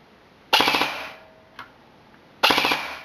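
Airsoft gun with a MOSFET set to five-shot burst fires two rapid bursts of clattering shots, separated by a single faint click. It is close and loud, with no talking.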